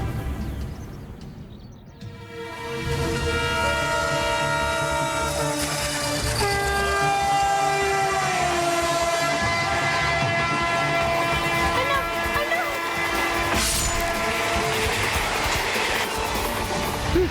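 A train passes along a railway track with a loud, continuous rumble, and long sustained horn blasts ring over the rolling noise for most of the passage.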